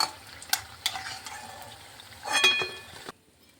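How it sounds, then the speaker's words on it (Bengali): Milk pitha rice cakes fry in a pan with a steady close sizzle, punctuated by a few sharp clinks and scrapes of a utensil, a louder burst of frying near the end, then it cuts off. "আর এইভাবে আমি প্রতিটা পিঠেই ভেজে নিচ্ছি"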